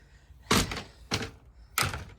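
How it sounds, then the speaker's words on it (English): An RV's door is handled, giving three close, solid thunks in about two seconds, each with a brief metallic rattle, quiet in between. "now I'm gonna go ahead and open my door"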